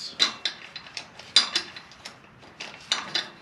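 Wrench turning a cylinder head bolt on an IH 484 tractor: a series of sharp metallic ratchet clicks in irregular bursts, close and fairly quiet.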